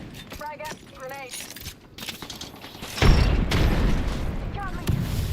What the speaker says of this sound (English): Frag out. Grenade.